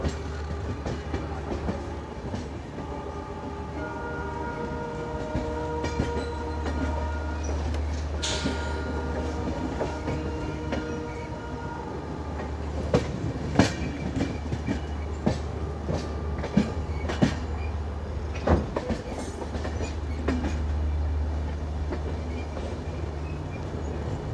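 Rumbling ride aboard the 12497 Shane Punjab Express, a diesel-hauled train, as it crosses over to another track, with steady low wheel roar, rhythmic clicks and clunks over points, and brief squeals, heard from inside the coach.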